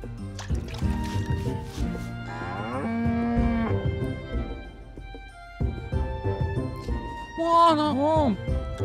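A cow in Graveyard Keeper lets out several drawn-out moos while being washed, with wet dripping and squishing sounds, set against game music and a talking voice.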